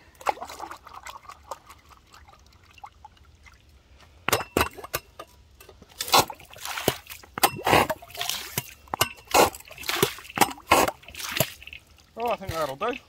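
Water poured into a gold pan holding gravel from broken-up bedrock, sloshing and trickling in bursts with gritty clinks of stones against the pan, heard up close after a quieter stretch.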